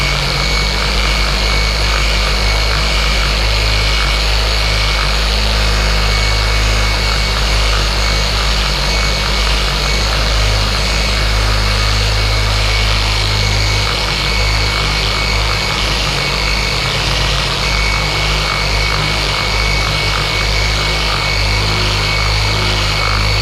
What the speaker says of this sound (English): just kind of letting the polisher do its work